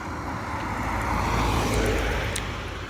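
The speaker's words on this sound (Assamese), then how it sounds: "বহুত গাড়ী গৈ অহা যোৱা কৰিছে গাইজ" Heavy road traffic streams past at close range, a loud continuous roar of engines and tyres that swells in the middle as vehicles pass, with no talking.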